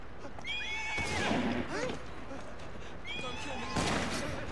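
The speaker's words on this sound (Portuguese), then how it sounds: "Olha o cavalo, consegui o cavalo" Horse neighing in the video game Assassin's Creed Syndicate, two whinnies with rising and falling pitch, each followed by hoof clatter, loud and close over a steady game background while someone talks.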